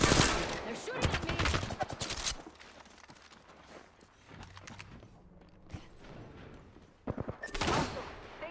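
Bursts of rapid automatic gunfire in the video game Apex Legends, loud volleys at the start and end with quieter scattered shots and footsteps between.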